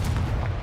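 A Confringo fire spell explodes in Hogwarts Legacy with a short, deep, booming blast that rumbles heavily in the low end, loud and close, with no voices.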